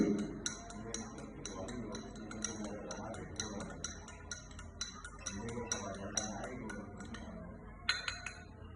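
A spoon stirring sugar into water in a glass for a simple kitchen chemistry test, giving steady rapid clinks and ticks against the glass throughout, with a low background murmur underneath.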